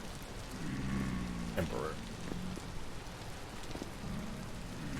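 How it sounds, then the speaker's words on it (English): Rain falls steadily in the video game Vintage Story, a soft continuous hiss onto a forge, with a few tonal game sounds and a brief spoken word over it. "The rain falls on my forge."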